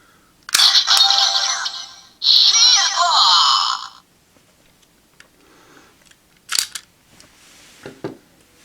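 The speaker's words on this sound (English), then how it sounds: "as well as the unlocking sound" Kamen Rider Ringo Lock Seed toy plays two loud electronic unlocking bursts up close, followed by a few softer clicks and clacks of the toy being handled, with no speech.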